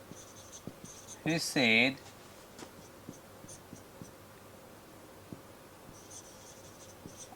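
A pen scratches faintly across paper in a steady stream of small strokes as an English example sentence is written, with a short spoken phrase partway through.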